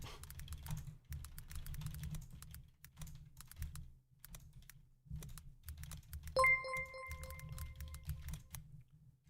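Steady, brisk typing on a computer keyboard, close and clear, with dense key clacks in quick bursts and brief pauses, plus a short electronic tone chiming partway through.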